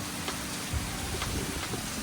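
Heavy tropical rain on an island in Vietnam, heard from indoors beside a window, as a dense, steady, close wash of downpour with faint patters and no talk.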